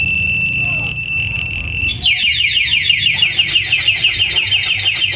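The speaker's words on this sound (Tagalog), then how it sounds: "So ito yung alarm niya." Anti-theft alarm on a Yamaha Raider fi motorcycle blares loud and close: a steady high electronic tone switches to a rapid warbling siren that repeats continuously.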